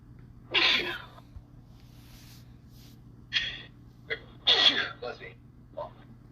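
Two sharp sneezes from a person, about four seconds apart and close to the microphone, with a few shorter breathy bursts between them over a steady low hum.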